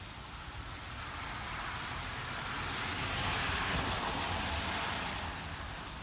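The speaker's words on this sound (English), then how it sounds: "It's snowing, but it's coming in the form of hail." Tiny snow hail, little chunks of ice, pattering down on a rooftop in a dense, steady hiss that holds even and continuous throughout, with no voices.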